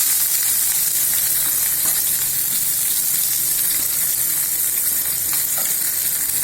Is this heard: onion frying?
yes